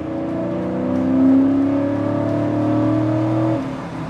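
A British sports car engine holds a rough, throaty roar with a swell in revs partway through, loud and close, then drops off near the end.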